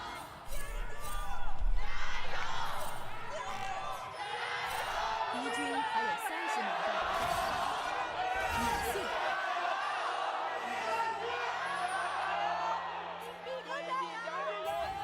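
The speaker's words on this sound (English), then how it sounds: "That was a cacophony of people yelling." A large esports arena crowd at a League of Legends LPL match roars and yells continuously, a dense wall of cheering voices that swells and stays loud throughout.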